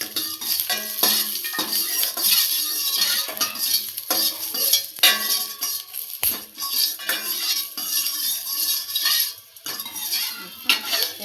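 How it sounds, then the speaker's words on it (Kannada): Cumin seeds fry in a pan on a gas stove, a steady crackling sizzle broken by frequent clinks and scrapes of a metal spoon stirring against the pan, close and fairly loud throughout with no talking. "ಇವಾಗ ಇದನ್ನು ಸ್ವಲ್ಪ ಹಂಗೆ ಫ್ರೈ ಮಾಡ್ಕೋಬೇಕು"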